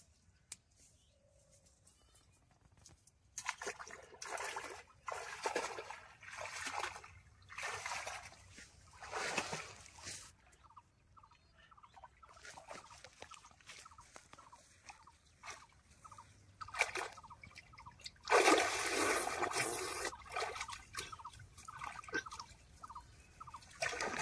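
Water splashes and trickles in irregular bursts as clay is rinsed out of hair, close and wet with patters and dribbles, pausing between pours and turning into a heavier gush near the end.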